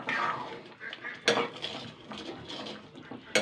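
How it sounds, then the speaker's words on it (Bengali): Fish-head mung dal for murighonto being stirred in a pot: scraping clinks of a metal spoon against the pot, with a sharp knock partway through and quieter stirring between, close and alone. "এবার আমি এটাকে ভালো করে আগে নেড়ে নেব।"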